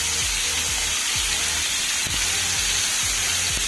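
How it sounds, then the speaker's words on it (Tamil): Chicken feet frying on a hot tawa for a kolli kaal fry: a steady, close sizzling hiss that holds unbroken throughout, with faint low bumps underneath. "ஃப்ரை பண்ணுற பாருங்கள்."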